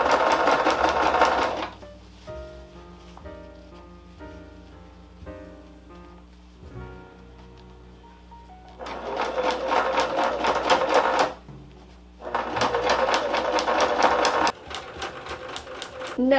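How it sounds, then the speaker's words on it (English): A sewing machine runs in loud, rapid bursts, stopping and starting several times, with quieter pauses of soft talking and handling between stitching runs. "let's plug in the sewing machine"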